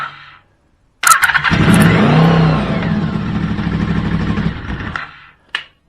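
A Honda VFR750 engine fitted into a VF750 turns over on its starter motor with the choke on, fires, runs roughly for about four seconds, then cuts off, loud and close.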